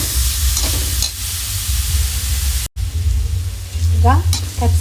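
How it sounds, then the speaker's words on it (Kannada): Capsicum frying with ginger and chilli in a pan for momos, giving a loud continuous sizzle and hiss close by, with a brief cut partway through and stirring noises underneath. "ಇದನ್ನು ಕೂಡ ಚಲೋ ಮಾಡಿ ಫ್ರೈ ಮಾಡ್ಕೋಬೇಕು."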